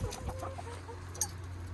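Chickens on a farm near Edmonton, Canada, give a few soft clucks and calls over a steady low background hum, heard from a short distance with no talking.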